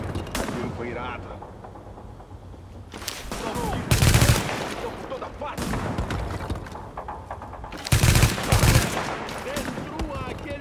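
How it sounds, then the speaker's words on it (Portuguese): Bursts of rapid gunfire in Tom Clancy's The Division on PS4 erupt in clusters, loud and close, with voices and game background sound running underneath between the volleys. "Dá um tiro. O tiro foi irado."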